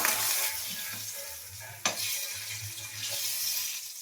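Cumin powder and chili frying in hot oil for butter paneer, a steady close sizzle with stirring scrapes throughout and one sharp clatter near the middle.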